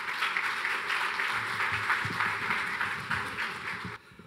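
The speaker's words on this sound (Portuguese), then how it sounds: "Uma salva de palmas, por gentileza." A panel audience applauds steadily for about four seconds at an event on putting Brazil back on track, a dense wash of many hands that cuts off abruptly at the end.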